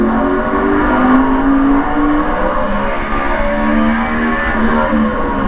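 NASCAR Cup race car at Martinsville Speedway, its engine holding a loud, steady high-revving drone with slight pitch shifts, continuous and close throughout.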